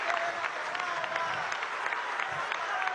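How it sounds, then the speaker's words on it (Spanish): A crowd at a Venezuelan government reception applauds the arriving marchers of a peasant march, steady mid-distance clapping with scattered cheers and voices underneath. "Vamos a darle un aplauso, ¿no?"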